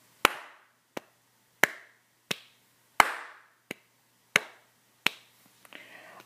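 Nine sharp, crisp hand claps ring out alone at an even pace, about two-thirds of a second apart, counting a simple four-beat meter in a quiet room, with a faint rustle at the end.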